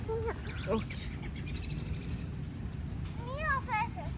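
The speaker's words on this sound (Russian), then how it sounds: "птичка надо мной" A small bird calls outdoors from overhead, its short chirps and rising whistles coming in brief bursts against a steady outdoor background while someone talks nearby.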